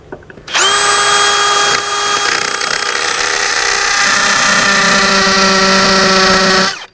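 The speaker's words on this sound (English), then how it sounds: "Now I can go in and drill the bottom holes." A power drill whirs loudly and steadily for several seconds while drilling screw holes to mount a hose reel, its high motor whine holding pitch before cutting off.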